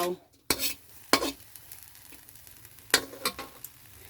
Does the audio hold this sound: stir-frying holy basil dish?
yes